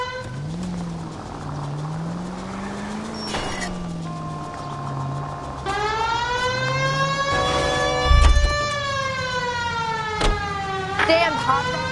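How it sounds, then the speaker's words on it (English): A police car siren wails in the L.A. Noire video game, its tone rising and falling over engine noise while a voice speaks early on, before a louder, harmonic-rich siren takes over with a few sharp knocks. "Turn on the siren and pull her over."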